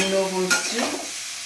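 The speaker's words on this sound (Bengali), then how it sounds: "এগুলোকে সোয়াবিনগুলোকে একটু কষে নেবো, আর একটু এখানে তেল দিয়ে দেবো" Soybean chunks stir-fried in oil in a home kitchen pan, a brief sizzle with a scraping stir midway, close and fairly loud, with a lingering tone fading underneath.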